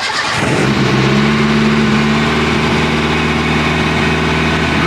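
A Renault 5 GT Turbo engine cranks and fires up in under a second, then settles into a loud, steady, close-up idle with no voices.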